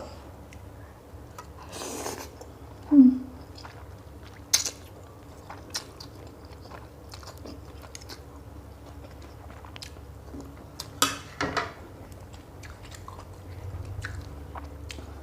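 Someone eats thick-broth pork noodle soup with jumbo meatballs, with scattered quiet bites, chews and soft slurps spread over a low room hum, including a couple of louder, sharper moments.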